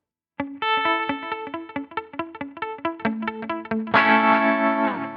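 An electric guitar through a Line 6 Stadium XL plays a quick rhythmic pattern of notes with repeating dotted-eighth delay echoes, then ends on a ringing distorted chord.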